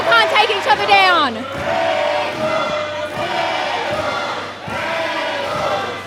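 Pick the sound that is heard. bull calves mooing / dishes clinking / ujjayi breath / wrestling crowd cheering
wrestling crowd cheering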